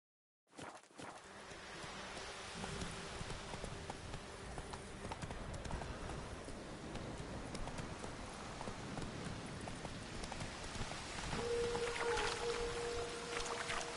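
Horse hooves clip-clop steadily on the ground in a PS4 video game, a continuous moderately loud rhythmic gait lasting throughout with faint ambient water-like background.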